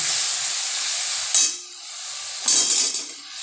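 Spice paste with turmeric and salt frying in a pan for a sweet potato curry, giving a steady close sizzle and hiss that flares into two louder bursts before settling back, with no voices.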